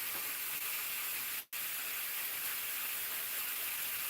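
A burger patty with bacon sizzles on a hot surface, making a steady loud hiss with one brief dropout. No one speaks over it.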